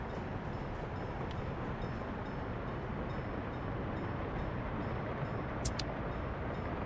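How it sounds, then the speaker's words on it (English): A train rumbles in the Workers and Resources video game as a steady, dense, unchanging roar that fills the whole stretch, with a couple of faint high ticks over it. "That train just turned around because I set directionals."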